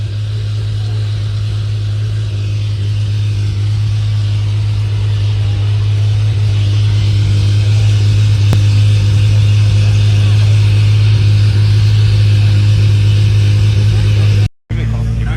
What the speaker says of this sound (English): And they're revving up that Porsche.